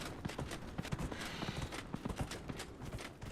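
Horse hooves clip-clop in a steady walking rhythm in the video game Dragon Age: Inquisition, close and fairly loud, with no talk over them.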